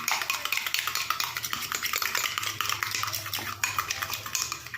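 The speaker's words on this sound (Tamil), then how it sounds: "இப்போ இதையும் ஆட் பண்ணிவிட்டு நல்லா அந்த மாதிரி கலந்து விட்டுடலாம்." A utensil stirs white aloe vera gel into a cream mixture in a bowl, producing repeated close scraping and clinking against the bowl in a quick, irregular rhythm, with no talk.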